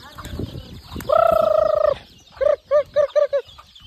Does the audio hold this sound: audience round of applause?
no